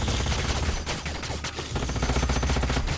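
Sustained gunfire in the Age of Wonders: Planetfall strategy video game, a dense, loud, continuous barrage of rapid shots filling the whole moment with no talking.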